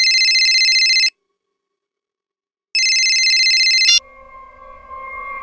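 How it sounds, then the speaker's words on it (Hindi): An electronic phone ringtone sounds in two bursts separated by a pause, then cuts off into quieter low hum. "अब इस वक्त किसका फोन आ गया?"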